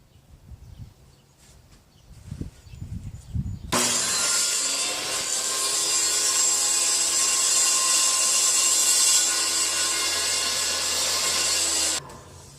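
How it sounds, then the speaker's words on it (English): A table saw fitted with a small sled cuts through laminate flooring, a loud steady whine of blade on board lasting about eight seconds after a few quiet knocks of setup, then stopping abruptly. "I just made this little quick sled for my table saw here"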